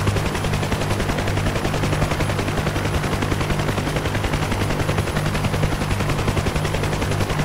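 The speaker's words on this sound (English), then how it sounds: "let's select rockets for fire once again, as it will be our first weapon in the live fire exercise" Attack helicopter weapons firing on a live-fire range in Digital Combat Simulator: dense, continuous rapid firing that stays loud and steady over a constant rotor drone, with no pauses.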